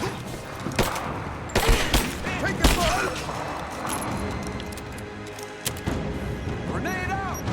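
Gunfire in the action game Rise of the Tomb Raider, several sharp, loud shots in irregular bursts amid busy combat noise, with a voice speaking over parts of it.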